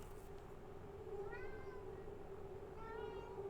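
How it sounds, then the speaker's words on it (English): A cat in the video game Prey meows twice with drawn-out, wavering calls, faint against a steady electronic hum that runs underneath the whole time. "Meow."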